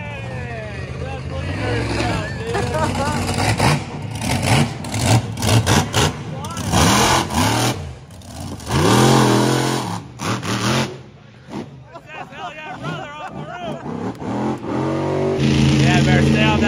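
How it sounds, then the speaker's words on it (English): A monster truck with a blown alcohol engine revs hard in repeated loud, rising and falling bursts nearby, while people talk and exclaim over the roar. "Am I about to hear the sweet sound of a monster truck? Yep. That's a blown alcohol engine."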